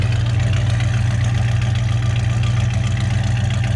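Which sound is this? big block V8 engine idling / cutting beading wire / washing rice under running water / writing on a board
big block V8 engine idling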